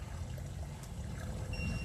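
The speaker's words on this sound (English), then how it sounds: "Water is currently running." Water runs through a sanitary sewer line cleanout in a soft, steady trickle, a faint continuous wash with no voices.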